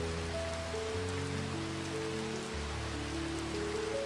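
Soft, even rainfall fills the space without a break, a dense steady hiss of drops that stays unchanged from start to finish with no voices.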